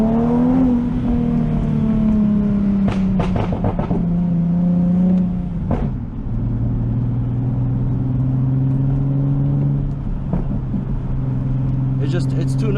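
A tuned car exhaust drones and shifts pitch as the engine revs, with a few sharp pops and bangs cracking through.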